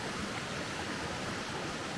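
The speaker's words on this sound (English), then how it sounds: "Nancytown Creek flows on down through over all those rocks and everything down through there." Nancytown Creek below the falls near Mount Airy, Georgia, rushing over rocks in a steady, broadband roar of flowing water, continuous and fairly close with no voices.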